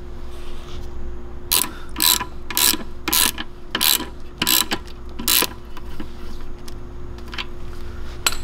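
Ratchet wrench tightening the winch ground terminals on a 4th-gen RAM Rebel truck, heard as bursts of quick metallic clicking that recur steadily at close range over a low background hum.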